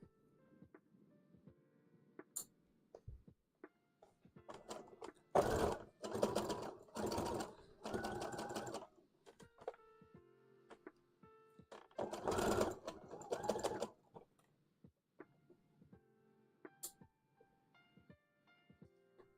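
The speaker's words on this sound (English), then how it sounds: "my machine is probably gonna hate sewing this though" A home sewing machine works on a My Little Pony hat in several short bursts of stitching, separated by quiet handling pauses and small clicks.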